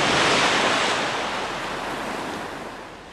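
Ocean waves break and wash in a loud, airy surge that slowly recedes, mixed with wind, with nobody speaking.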